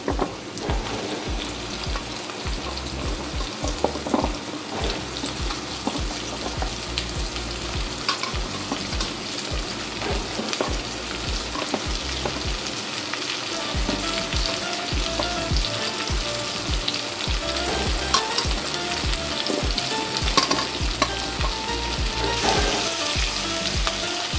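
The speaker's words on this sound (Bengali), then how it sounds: "এখানে আমি আলুগুলো দিয়ে দিচ্ছি।" Potatoes frying in a pan with half-fried onions give a continuous crackling sizzle, broken by repeated scraping and stirring sounds close by.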